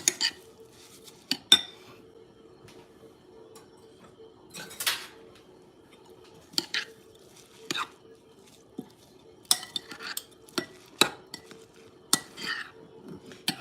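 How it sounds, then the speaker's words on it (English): A spoon stirs oat batter in a bowl for homemade Valentine's Day treats, producing soft intermittent scrapes and light clinks against the dish, with quiet murmuring in between. "I'll move over to a spoon because the whisk might not be the best now that the oats are in there"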